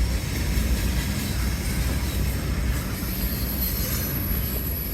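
A train passing on a railway line carrying CN freight, Via Rail and GO Transit traffic between Hamilton and Niagara Falls, a continuous loud rolling rumble with a faint high squeal.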